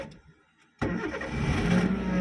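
A car engine turns over and catches after a short quiet moment, then settles into a steady, close, rumbling run; no voices are heard.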